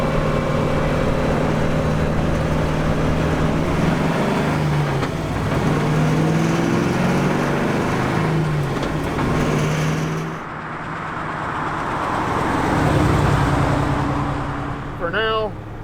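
A Plymouth Roadrunner converted into a Superbird drives along, its engine a steady droning rumble inside the car with road noise, easing off and swelling again near the end.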